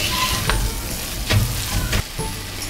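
Tomatoes and masala sauté in a hot pan for a chicken curry with coconut milk, giving a dense, continuous loud sizzle broken by a few stirring scrapes at intervals, with no voices.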